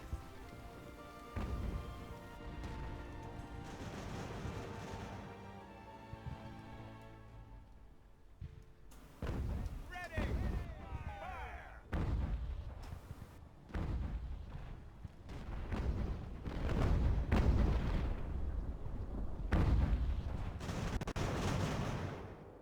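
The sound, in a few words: mortar and cannon fire in Ultimate Admiral: Age of Sail video game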